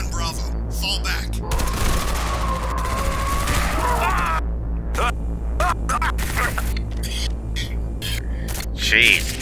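Heavy, sustained automatic gunfire from a team of soldiers in an SCP short film, a dense loud barrage with sharp cracks and rumbling booms, with a voice calling out near the end.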